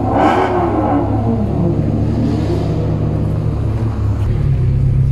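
A Lamborghini Murcielago engine revs loudly up close, a deep sustained rumble that swells at the start and holds a steady throaty drone throughout, with no talking.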